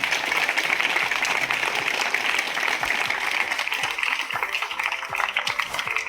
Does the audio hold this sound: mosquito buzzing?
no